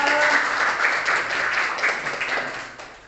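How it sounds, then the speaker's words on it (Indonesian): Students in a classroom clap together after a lesson, a steady burst of applause at moderate loudness that carries on evenly and tapers slightly at the close. "tepuk tangan untuk kita"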